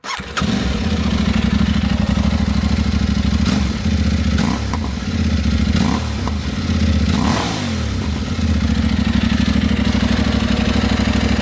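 An Aprilia Tuareg Rally 660 motorcycle fitted with an SC Project exhaust runs loud and close, a throaty steady idle broken by several sharp throttle blips and revs, with no talking over it.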